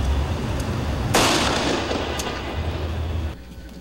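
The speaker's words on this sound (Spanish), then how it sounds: "escucharon los disparos de balas de salva" Blank rounds fire during an outdoor police drill: a sharp, loud burst breaks out over steady background rumble and crowd noise, then settles back to a continuous din that drops off near the end.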